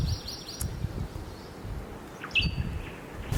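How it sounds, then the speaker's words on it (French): Birds sing and chirp in a misty high-altitude forest in Hawaii, with a few clear calls over a soft, steady background of rustling and insect hum. "Il y a beaucoup plus d'oiseaux en haute altitude car ils sont protégés dans la forêt."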